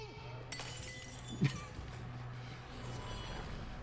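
A glass is thrown and shatters in a TV drama scene, a single sharp crash midway through over a low steady hum and faint background sounds.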